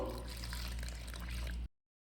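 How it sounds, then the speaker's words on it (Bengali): Slightly warm water is poured steadily into flour to knead dough for dalpuri, a continuous close watery pour that runs for about a second and a half before cutting off to silence. "অল্প অল্প করে আমি সামান্য উষ্ণ গরম জল করে নিয়েছি, এই জলটা দিয়ে মাখবো।"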